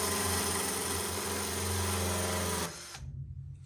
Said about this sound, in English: So let's drill these up and then we'll silicone these on.